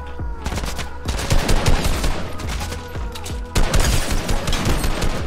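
Rapid automatic assault rifle fire in the video game Fortnite, loud dense bursts of shots that continue almost without a break, with a short pause near the middle.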